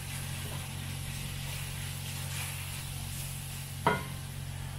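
Seasoning of cumin and paprika is stirred into a chicken zoodle dish in a pan, a faint, steady sizzle under a low hum, with one sharp utensil clack near the end.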